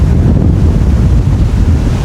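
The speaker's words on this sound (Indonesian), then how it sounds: "Wah, ini anginnya kenceng banget." Strong wind roars and buffets the microphone continuously, a loud low rush with waves faintly underneath.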